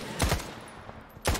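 Gunfire in the shooter S.T.A.L.K.E.R. 2: Heart of Chornobyl, with two sharp bursts of shots about a second apart over a low background hum.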